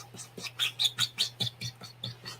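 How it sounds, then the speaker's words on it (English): A drawing tablet squeaks in a quick, regular series of about ten high, chirpy squeals, close and fairly loud, sounding much like a small bird. "I'm just going to assume that all of the chat can hear the squeaking."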